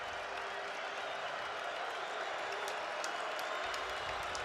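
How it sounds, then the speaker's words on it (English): A college football crowd of Bison fans at North Dakota State vs Southern Illinois makes a steady, distant roar of cheering and noise before the snap, with scattered sharp accents on top. "Bison crowd trying to get a little bit louder as before the snap"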